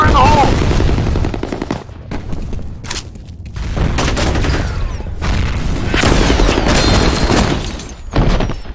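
Grenade blasts and rapid bursts of gunfire fill a FEAR Combat capture-the-flag match, loud and dense throughout with booming impacts and chattering automatic weapons, alongside faint game radio voices.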